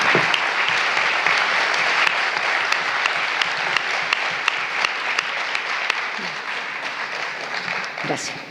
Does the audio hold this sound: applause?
yes